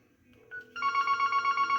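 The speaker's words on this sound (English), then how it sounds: "Which one's ringing? Oh, that's Karen's phone." A Yealink desk phone starts ringing with a brief tone, then a loud, steady electronic trill pulsing rapidly and close.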